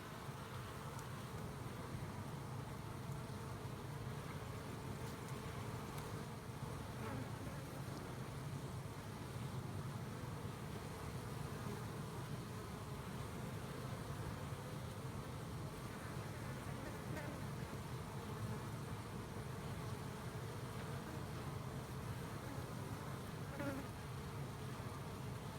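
Bees buzz steadily around a hive in an open-air cutout, a dense continuous drone of many insects holding at a moderate level throughout with no voices.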